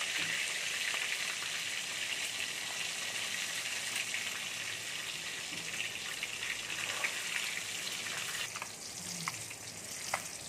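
Eggs seasoned with turmeric and salt fry in hot oil in a karahi, a steady crackling sizzle heard close, with a few scraping stirs near the end and no talking.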